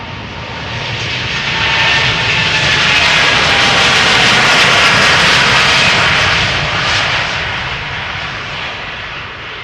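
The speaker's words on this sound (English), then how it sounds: "Coming this way is KLM flight 605 going to San Francisco, Boeing 787-10 Dreamliner" KLM Boeing 787-10 Dreamliner jet passing over Amsterdam Schiphol, a loud steady engine roar that swells to a peak mid-pass and slowly fades, with no voices.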